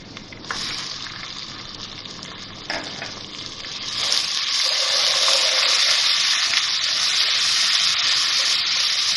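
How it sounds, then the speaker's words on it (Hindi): Whole dried red chillies and cumin seeds hitting hot oil in a pan, a sudden crackle that swells into a loud, continuous hiss and sizzle, with faint clatter as the spices are stirred. "थोड़ा सा इसको चलाएंगे ताकि ज़ीरा सही से इसमें कड़कड़ा जाए"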